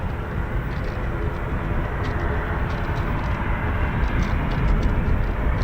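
A Czech Air Force CASA C-295 twin-turboprop transport flies past at an air show arrival, its steady broadband engine roar filling the air and swelling slightly toward the end, with no voices over it.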